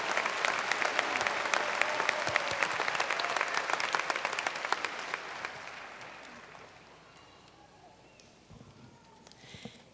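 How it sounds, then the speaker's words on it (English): Sustained applause from a commencement audience at a college graduation ceremony, dense and loud clapping that fades over the last few seconds to scattered claps and room noise. "let's give them another round of applause"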